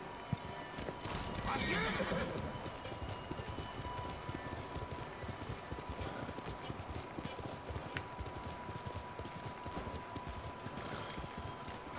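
A horse in the video game Ghost of Tsushima whinnies and then clip-clops along at a steady gallop, a continuous rhythmic hoofbeat under game ambience, with a person talking over it.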